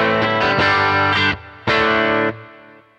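Distorted electric guitar through a Fractal FM3 plays a few sustained country-style chords, each ringing with a warm echoing tape delay and lingering spring reverb tail that fades out.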